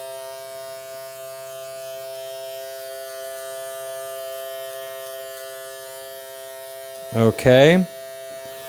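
An electric hair clipper hums steadily while cutting a child's hair, a constant close buzz running through the whole stretch, with a brief spoken word near the end.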